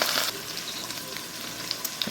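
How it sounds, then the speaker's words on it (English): Beef pot roast searing in a hot pan, a steady close sizzle with small crackles and pops throughout, a bit louder at the start, with no talking. "we'll let that cook for a little bit until we get that beautiful sear"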